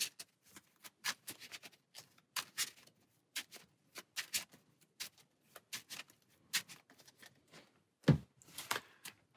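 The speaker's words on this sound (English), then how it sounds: "Give this another shuffle." A deck of game cards for the Marvel Champions card game is shuffled by hand, giving quick repeated riffling bursts with brief pauses between them, close and fairly quiet, followed by a short thump near the end.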